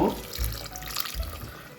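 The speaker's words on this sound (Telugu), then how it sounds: "ఇదిగో వాటర్ వేసేస్తున్నాను" About 100 ml of water runs and splashes steadily from a tap into a pot of mutton kheema and ridge gourd curry, a continuous hissing flow with a couple of low thuds.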